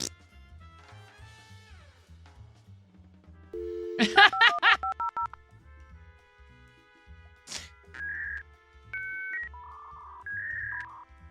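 Telephone dialing tones, a short run of distinct beeps followed by a few sustained electronic tones and ring-like pulses, heard clearly over a quiet background.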